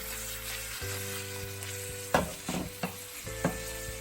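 Shrimp and bacon sauté with Italian parsley in a pan, a close, steady sizzle under a low kitchen hum, punctuated by a few sharp spatula taps and stirring scrapes.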